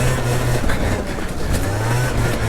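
A modded Honda Elite 50 two-stroke scooter fitted with a 70cc kit revs and accelerates hard, its buzzy engine note rising and wavering under strong wind rush, loud and close throughout.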